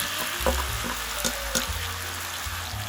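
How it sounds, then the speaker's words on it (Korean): Kimchi stir-frying in a hot pan with ordinary cooking oil, a steady close sizzle broken by a few sharp scrapes and clacks of a utensil against the pan. "이대로 그냥 오래 볶아주면 돼요"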